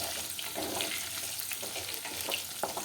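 Amla pickle, made from Indian gooseberries, cooks in a pan and is stirred now and then. A faint, continuous sizzle runs throughout with soft scraping strokes of the stir, and nobody talks.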